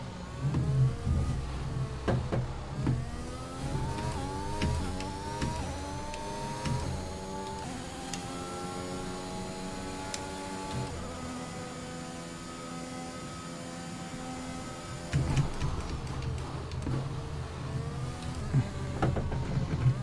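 A Formula 1 car engine in the F1 2021 racing game revs and shifts through gears, rising whines repeating steadily for about twenty seconds, loud and close, with no talking over it.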